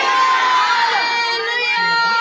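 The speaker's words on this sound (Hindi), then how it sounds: "फिर से जोरदार नारा लगाएंगे, हालेलुया" A congregation at a women's intercessory prayer meeting shouts hallelujah loudly together, a dense, sustained mass of raised voices filling the room for a couple of seconds without pause.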